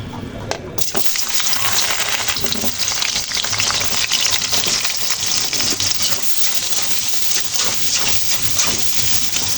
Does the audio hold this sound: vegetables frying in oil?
yes